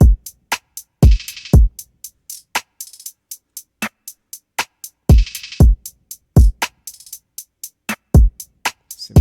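A simple punchy kick drum thumps through a looping beat, its deep hits landing alongside crisp hi-hat ticks and snappy snare-like hits in a repeating pattern, with no voices.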